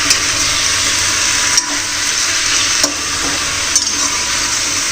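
Vegetables, including brinjal, roasting in a pan, giving a steady close hiss with a few soft clicks and scrapes and no talking.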